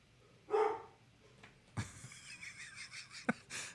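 Dogs in a recording studio let out a few scattered barks and yips between wheezy breathing and rustling, fairly faint and intermittent.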